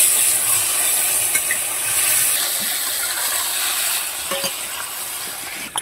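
Mushrooms seasoned with a little salt and turmeric fry in a small amount of oil, giving a loud, steady close-up sizzle with soft stirring scrapes, and no talk.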